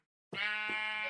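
Sheep in the video game Minecraft gives one clear, close wavering bleat that starts abruptly after a short silence, alone with no talk.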